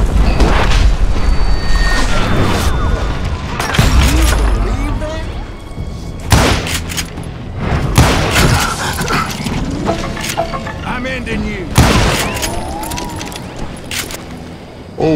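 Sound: gunfight gunshots in video game Call of Juarez: Gunslinger

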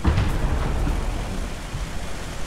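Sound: distant tank cannon fire in War Thunder video game

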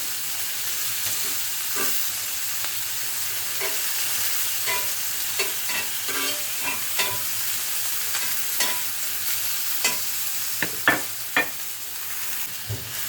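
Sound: peppers frying in sausage fat

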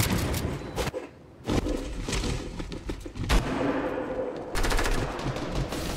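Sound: gunfire in the video game Fortnite

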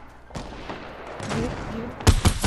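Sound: gunfire in a first-person shooter video game

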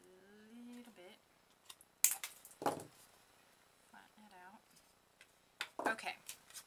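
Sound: cutting paper for coin envelopes with cutters

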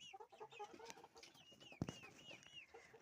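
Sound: chickens clucking

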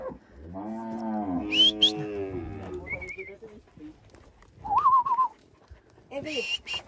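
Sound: cattle being herded for vaccination

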